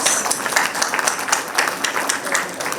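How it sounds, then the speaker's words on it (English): Audience applause at the ANEICON 2023 valedictory award ceremony: a steady, dense wash of many hands clapping that holds at an even level for the whole stretch, with faint voices underneath. "Let's give ma'am a huge round of applause"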